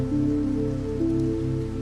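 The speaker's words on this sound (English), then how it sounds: "and as if responding, the rain deepened" Rain falls in a steady, full wash, close and continuous with no other sounds.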